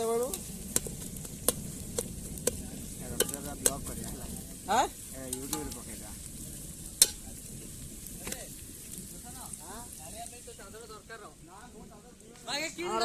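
Onions fry in oil for chicken at an outdoor forest picnic in the rain, with a steady sizzle broken by repeated sharp scrapes and clacks of stirring, while voices talk throughout.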